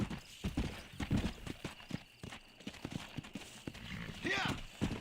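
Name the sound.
horse hooves walking, Red Dead Redemption 2 video game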